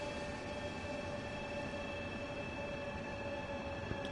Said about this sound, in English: Go on, train, use all the brake force you have.